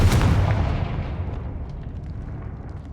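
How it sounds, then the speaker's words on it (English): A Confringo fire spell explodes in a Harry Potter video game: one heavy, close boom that rolls off into a long, fading rumble with no voices. "Confringo!"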